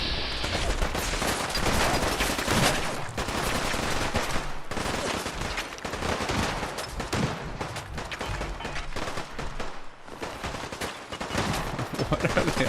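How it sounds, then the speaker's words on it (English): Sustained gunfire from a settlement firefight in Fallout 4 with the Sim Settlements 2 mod, dense overlapping bursts of automatic and single shots crackling almost nonstop, loud and close, with no pause for talk. "What are they all shooting at?"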